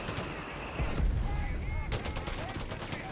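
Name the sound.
Johnson light machine gun fire in Company of Heroes 3 video game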